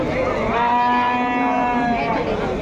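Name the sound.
Jersey cow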